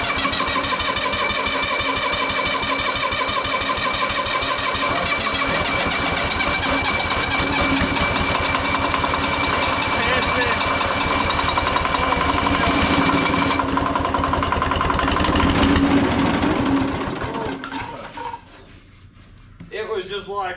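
A two-cylinder air-cooled Cummins diesel with an oil-cooled starter, dormant for over 20 years, cranks and catches, then runs loudly and steadily with a dense clatter before the revs drop away near the end.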